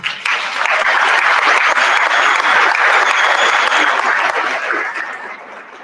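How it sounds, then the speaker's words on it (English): Sustained applause from a concert audience for a combined middle and high school band at a winter band concert, steady and dense for several seconds before tapering off at the end. "Let's give them a warm round of applause."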